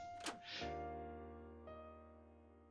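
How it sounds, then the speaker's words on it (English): A single dull thud strikes a door in the Asagao Academy visual novel, a short sharp knock near the start, followed by soft sustained musical chords. "A loud thud slammed into the door and I was on my feet in a flash."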